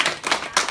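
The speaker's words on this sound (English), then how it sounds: "you all need to give each other a big round of applause" A fifth grade class claps for one another in a classroom, a brief patter of several hands clapping close by in quick irregular bursts.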